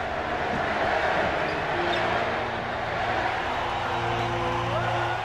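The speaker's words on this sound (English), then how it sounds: "The crowd start cheering. Larry, Larry, Larry." A basketball arena crowd in Portland cheers and chants for a former three-time MVP, a dense, sustained roar of many voices with a rhythmic chant rising within it.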